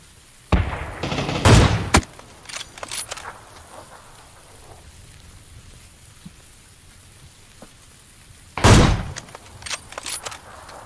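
Rain patters steadily in the video game PUBG during a storm, a soft constant wash broken by two loud, sharp bursts of gunfire, one near the start and one near the end.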